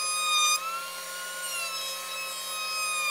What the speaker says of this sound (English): setting up that the router table so that I can chamfer all of the sides.